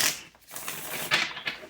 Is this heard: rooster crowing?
no